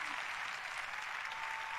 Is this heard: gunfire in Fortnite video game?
no